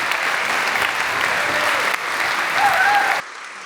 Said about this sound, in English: You all deserve a round of applause of your own.